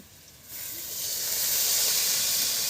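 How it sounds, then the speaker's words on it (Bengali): Water hits hot oil in a pan of frying potatoes, bursting into a loud, steady hiss of steam and sizzle that swells within a second and holds strong. "আলু ভাজা হয়ে গেছে, এবারে আমি দিয়ে দিচ্ছি জল।"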